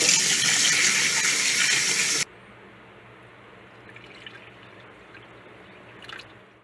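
A tap runs loudly for about two seconds while a snake's water dish is cleaned and refilled, then cuts off, leaving quiet dripping and small splashes with a brief clatter near the end.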